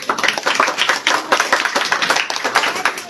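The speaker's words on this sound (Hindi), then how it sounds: "ताली बजाइए।" Students in a quiz class applaud a correct answer with steady, dense clapping that fills the whole moment, close and fairly loud, with no talk over it.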